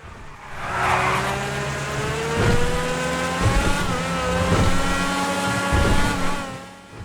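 A De Tomaso P72 sports car engine in GTA Online revs high and loud, its pitch climbing and dropping through several gear changes, with no talking.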